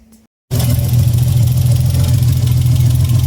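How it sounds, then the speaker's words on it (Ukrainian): After a brief pause, an Opel Monza 3.0-litre engine with almost no muffler roars into a steady, rough, unmuffled idle with a deep rumbling drone, close by. "ну мотор працює, але глушника тут нема"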